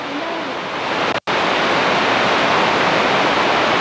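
Heavy pouring rain roars as a dense, constant hiss, loud and close, with a momentary dropout partway through and no voices.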